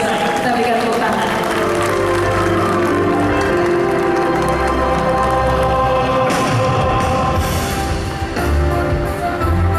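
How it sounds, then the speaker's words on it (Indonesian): Audience applause fills an event hall at The Beauty of West Kutai gathering, a dense steady clapping that carries on for several seconds while a voice speaks over it. "Kita berikan tepuk tangan."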